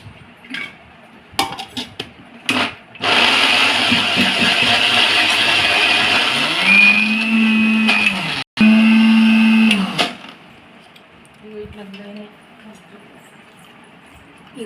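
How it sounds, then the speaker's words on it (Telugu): Mixer grinder blending coconut, green chilli and tomato with water, a loud steady whir running for several seconds, briefly interrupted and restarting, with clatter of handling the jar before and after. "కొంచెం వాటర్ వేసుకొని మళ్ళీ గ్రైండ్ చేసుకోవాలండి."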